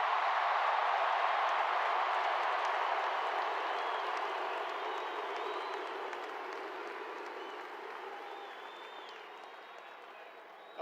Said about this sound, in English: let's give our 2021 national champions a round of applause one more time